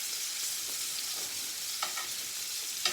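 Garlic and rosemary sizzle in hot butter in a pan at home, giving a steady, close frying hiss with a few faint stirring clinks near the end.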